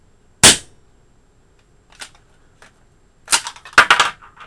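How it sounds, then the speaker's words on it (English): An airsoft shotgun loaded with Mad Bull 6mm shells fires one sharp, loud pop, followed by faint clicks and then a burst of metallic clacks from working the action. "Take the shotgun, close, fire."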